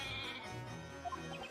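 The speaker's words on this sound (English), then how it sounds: "You mean your baby goat, right?" A baby goat bleats in the video game Professor Layton vs. Phoenix Wright, a wavering cry heard over steady background music in a courtroom scene.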